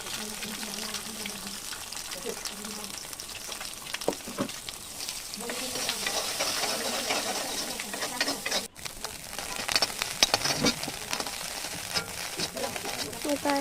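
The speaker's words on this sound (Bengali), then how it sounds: "কড়াই চাপতে দিয়ে তাতে দুটো ডিম আমি ভেজে নিচ্ছি" Two eggs frying in a wok with salt and turmeric, a steady soft sizzle with occasional spatters and stirring scrapes, close and continuous, while someone talks over it.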